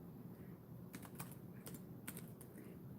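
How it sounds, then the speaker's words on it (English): Quiet bursts of typing on a computer keyboard, a few quick clusters of light key clicks separated by pauses, faint and close over a steady low background hum. "I'm typing it in the PayPal."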